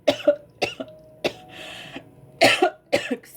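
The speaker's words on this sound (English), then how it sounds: "I apologize already for my coughing." Several harsh coughs come in quick bursts, close up, with short pauses and a throat clearing between them.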